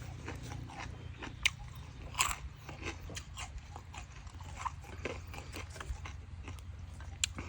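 Close, continuous crunchy chewing and biting while eating spicy pounded papaya salad with fermented fish sauce, with occasional louder crisp crunches and no talking.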